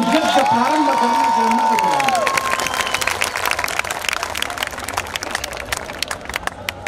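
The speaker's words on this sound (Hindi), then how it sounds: "तालियां बजा करिए।" Audience applause and cheering at an evening poetry gathering at a Diwali fair, sustained clapping from a large crowd with a voice over it at first, then continuing steadily to the end.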